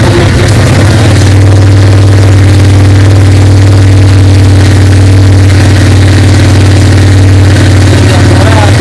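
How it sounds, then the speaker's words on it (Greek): A loud, steady Suzuki Intruder 750 motorcycle engine idles close by with a deep, constant rumble, after a brief rise in revs at the start. "έχουμε βάλει μπροστά το μηχανάκι"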